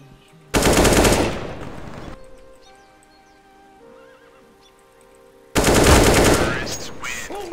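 Automatic gunfire rattles in CS:GO, two long loud close bursts of rapid shots, one near the start and one near the end, separated by quieter game sound.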